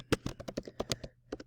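Keys clatter on a computer keyboard in a quick, uneven burst of about a dozen close, crisp taps with a short pause near the end, quiet and without speech.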